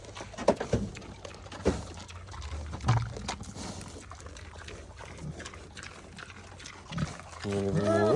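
Pig at an animal sanctuary grunting softly in short, scattered bursts, close by and fairly quiet, with a person speaking in between.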